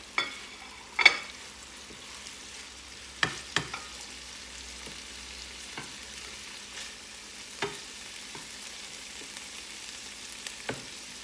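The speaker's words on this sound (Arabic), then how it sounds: "نخليكم على ما يتقلى الدجاج" Chicken frying in a pan for Mexican fajita sandwiches gives a soft, steady sizzle close by, broken by occasional sharp clanks and pops, without talk.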